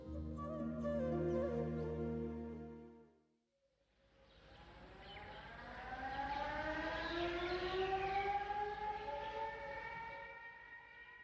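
A loud siren wails at dawn across the dera, its long rising and falling tones sweeping out after a steady horn-like tone and a brief pause, with nothing else heard.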